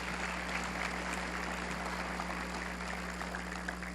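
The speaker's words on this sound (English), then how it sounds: "Please give them a round of applause." Faint, steady applause from a press-conference audience celebrating a $1 billion Chobani yogurt investment in Oneida County, an even wash of clapping with no voices over it.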